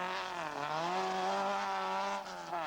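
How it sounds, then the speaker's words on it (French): A VW Golf rally car on a Belgian rally stage in the 1998 Critérium Wallonie, its engine holding a loud, sustained high-revving drone with a slight pitch dip and recovery, close and continuous with no talk. "VW Golf"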